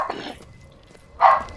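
Two loud, close dog barks separated by a short pause, the second sharper and stronger, with a faint low murmur underneath.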